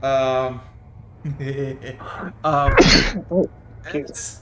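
A single sharp sneeze bursts out mid-conversation during a tabletop role-playing session, with someone speaking before and after.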